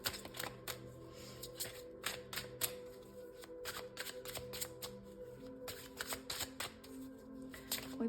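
Tarot message cards are shuffled by hand in a close, continuous run of crisp riffling and papery snaps, with soft taps and clicks scattered throughout.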